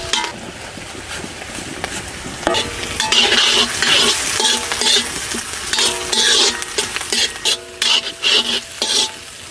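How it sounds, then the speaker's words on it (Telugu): Chopped onions frying in oil in a pan, a steady bright sizzle that grows busier midway, with repeated scrapes and clinks of a spoon stirring close up, no talking. "బ్రౌన్ అయ్యే వరకు వేయించుకోవాలి."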